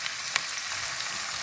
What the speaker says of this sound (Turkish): Fasulyelerle de birazcık 2-3 dakika çevireceğim, kavuracağım böyle.